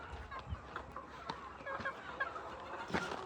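Native country chickens cluck and chatter steadily inside a farm shed at evening, many birds close by with overlapping calls over a constant low hum, with no talk.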